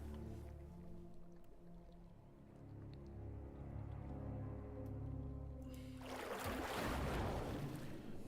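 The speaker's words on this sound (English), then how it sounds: "You leap into the pool and swim down." A character leaps into a warm, oily pool and swims down in Pillars of Eternity 2, heard as a sudden splash and churning underwater swirl near the end, after a long, quiet, sustained musical drone.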